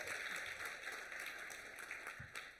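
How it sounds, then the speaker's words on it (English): Faint applause from a crowd, a soft continuous patter of clapping heard from a distance. "let's have a round of applause"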